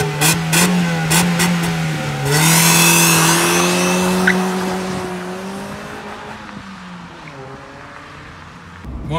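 Car with new brakes and a decat exhaust driving off, engine note rising and falling through gears, loud and close, with a brief tire squeal, alone without talk.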